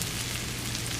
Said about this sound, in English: you want enough oil in there so you see the meat sizzle